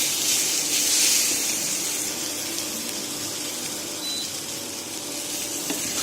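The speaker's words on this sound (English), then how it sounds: "Now we are going to stir fry this for about 10 seconds" Moong sprouts with chopped parsley being stir-fried in a pan, giving a steady, even hiss of sizzling that stays close and fairly loud throughout, with no talking.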